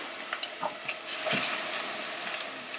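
Rice is poured into a pan of sweated onions for a salmon risotto, a soft rushing patter with a rising sizzle, close and moderately loud, with light scraping clicks at the start and no talk.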